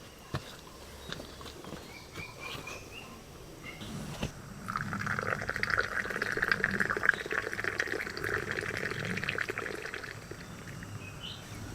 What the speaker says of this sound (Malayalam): തിളച്ച് വരുന്നുണ്ട്.